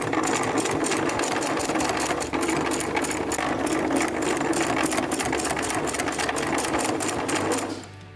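A sewing machine stitches fabric at a constant fast, buzzing pace, loud and close, running without pause and winding down at the very end, with no voices.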